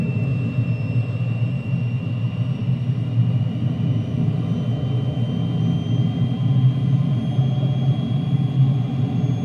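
A De Havilland DH.100 Vampire's Goblin jet engine in a flight simulator roars steadily at throttle during a loop, a continuous loud, even rumble with a faint high whine throughout.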